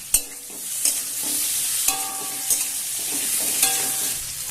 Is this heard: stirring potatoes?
yes